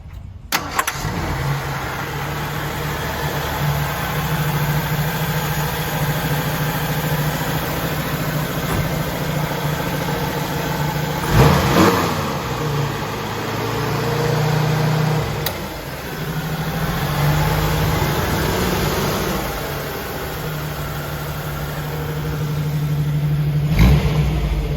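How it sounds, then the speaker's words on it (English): A 1985 Jeep CJ7 engine cranks, catches and idles steadily, rising in a few revs along the way before settling back to a rough, continuous idle. "next we're going to crank the engine and we'll take it for a spin down the road"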